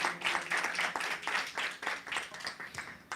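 Congregation clapping at a church sermon, a brisk burst of applause filling the room at moderate volume with no speech over it.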